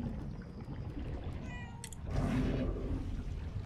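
A cat meows in an attic in the video game Murdered: Soul Suspect, a few short tonal cries at moderate distance, followed by a brief bright burst and then steadier background noise.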